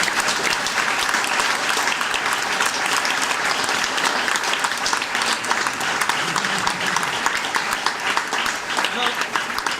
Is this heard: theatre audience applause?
yes